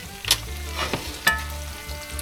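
Sausage frying in grease on a stovetop, stirred and lifted with a slotted spoon: steady close sizzling with sharp scraping clinks of metal spoon against the pan, no voices.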